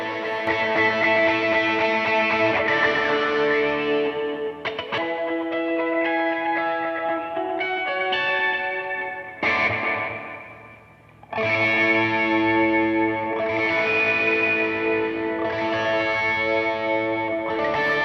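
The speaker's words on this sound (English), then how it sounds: "To do that, you basically de-ess the guitar" Distorted electric guitar plays sustained chords and melodic lines with a slightly tamed, smooth top end, briefly dipping quieter near the middle.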